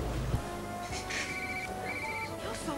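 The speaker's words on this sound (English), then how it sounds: "Your phone's ringing." A mobile phone ringtone trills in bright electronic bursts, starting and stopping in short repeated phrases over a steady room background.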